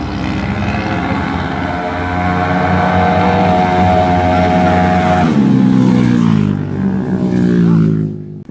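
A tuned Rusi Flash 250cc motorcycle revs hard in a 400 m drag race, a loud, close buzzing engine note that climbs steadily, drops at a gear change around five seconds, then climbs again.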